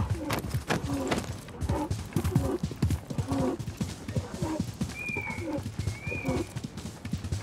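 Padded footfalls of a dromedary camel being ridden in Assassin's Creed Mirage thud in an uneven plodding rhythm, close and clear, with brief high chirps of birds overhead and no talking.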